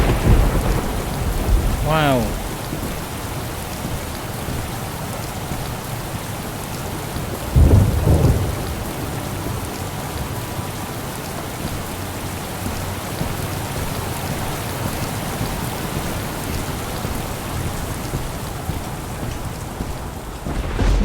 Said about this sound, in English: Man, look at that damn rain.